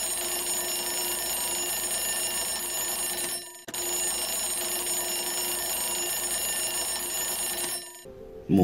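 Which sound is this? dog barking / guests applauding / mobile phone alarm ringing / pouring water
mobile phone alarm ringing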